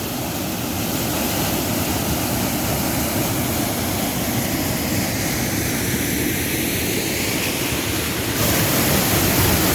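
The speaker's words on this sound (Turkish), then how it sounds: "Rize'ye bağlı Kışlacık'ta Kuş Kaya Şelalesi'ndeyiz ve şelalenin dibindeyiz." Kuşkaya Waterfall near Kışlacık roars from right at its base, a loud, dense, unbroken rush of falling water that fills the whole stretch with no voices.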